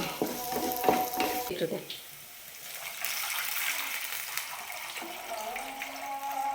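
Tamarind water poured into a pan of frying onions and dried chilies, giving a burst of splashing sizzle and bubbling that settles into a steady hiss, with a voice talking briefly at the start.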